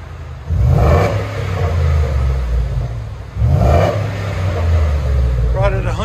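A 2011 Ford F-150 Lariat with the 5.0L Coyote V8 and a Flowmaster Outlaw exhaust revs twice, each blip swelling into a deep, loud burble that holds before settling back to a rumbling idle nearby.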